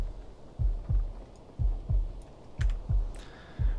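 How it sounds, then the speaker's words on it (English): A steady heartbeat sound effect from the survival game Bermuda - Lost Survival thumps in paired lub-dub beats, low and soft, repeating about once a second with nothing else around it. "That heartbeat is stupid annoying."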